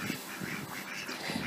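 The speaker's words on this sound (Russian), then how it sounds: "Вот эти вот наши уточки. Очень красивые." Domestic ducks, white females and speckled males, quack steadily in a farmyard in Georgia, a dense, continuous chorus of overlapping calls close by with no talking.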